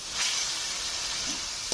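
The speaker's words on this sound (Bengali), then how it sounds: "তো এখন দিয়ে দিচ্ছি সামান্য একটু জল, কারণ আমি গুঁড়ো মশলা ব্যবহার করেছি কিছু, জল না দিলে পুড়ে যাবে।" Water splashed into a pan of frying ground spice paste for a village-style fish curry, giving a steady, soft sizzling hiss with a few small crackles, close and fairly quiet, no talking.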